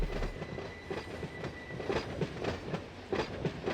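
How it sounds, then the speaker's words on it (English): Freight train in the Run 8 train simulator game during brake application, steady rolling rumble with rhythmic clickety-clack of wheels over rail joints and a faint high brake squeal, continuous and moderately loud with no talk. "Alright, we're going for brake application."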